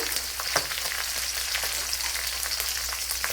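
Green chilies, curry leaves, ginger and garlic fry in hot oil in a pan with a steady, bright hiss, a few soft stirring knocks breaking the continuous sizzle.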